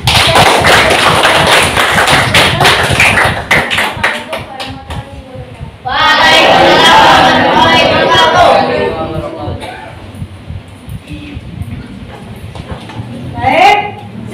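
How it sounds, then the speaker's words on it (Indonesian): A classroom group claps after a student presentation, a burst that is dense and fairly loud for a few seconds, then fades into quieter murmuring voices. "tepuk tangan."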